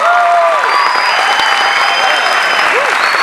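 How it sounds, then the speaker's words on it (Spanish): Loud, dense applause and cheering from a large Comic Con crowd in Argentina, a continuous roar of clapping with some whistles riding above it. "¡Aplauso, aplauso!"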